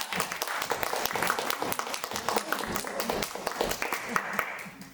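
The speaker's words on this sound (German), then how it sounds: "Applaus für Sophia!" An audience applauds to welcome a jury member at a dress rehearsal, dense rapid clapping from many hands, steady for several seconds before tapering off, with some voices mixed in.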